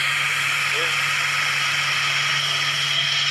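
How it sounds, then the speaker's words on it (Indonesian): A motorcycle engine in a video game idles with a steady, even drone and mechanical hum, holding at a constant level with no revving for the whole stretch. "Dan ada suara motor ya sepertinya ya."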